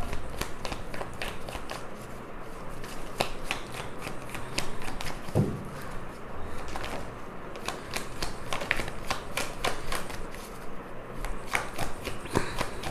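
A deck of tarot cards shuffled by hand at a Hindi tarot reading, making continuous riffling and flicking with sharper snaps scattered throughout, close and steady over several seconds.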